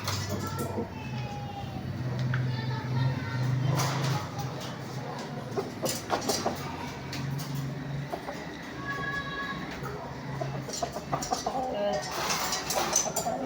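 A Blue Velcro hen, bought from an American breeder, clucks softly near the camera at a Philippine breeders festival, with short repeated clucks over background noise and occasional voices.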